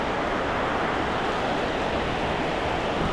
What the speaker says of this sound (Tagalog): Dito, ang lakas ng ulan.